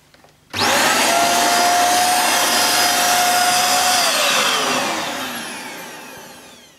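Hoover Jovis 550 watt corded handheld vacuum cleaner fitted with a crevice tool switches on abruptly with a loud high whine, runs steadily, then winds down gradually as the motor pitch falls.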